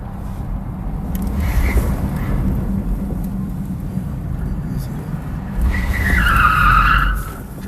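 A Tesla Model S Plaid in drift mode skids with rising tire squeal toward the end, over steady road rumble, while someone talks.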